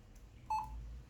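A single short electronic computer startup beep sounds once, clean and high-pitched, against a quiet background hum.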